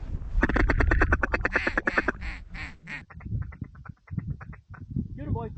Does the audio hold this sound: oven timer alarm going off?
no